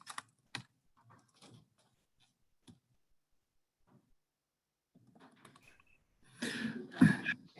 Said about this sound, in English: while I'm typing that in